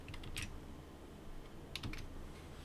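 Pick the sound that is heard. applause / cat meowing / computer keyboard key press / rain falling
computer keyboard key press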